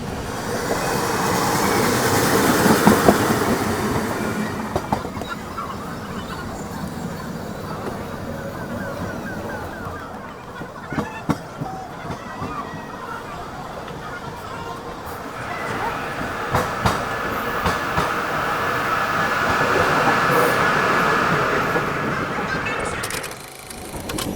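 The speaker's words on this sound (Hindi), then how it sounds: "पूर्वा एक्सप्रेस सामने निकल रही है भाई" Purva Express train passing alongside the Howrah–New Delhi Duronto Express, a long loud rumble of wheels and carriages with rhythmic clacking and a brief squeal, swelling at the start and again near the end.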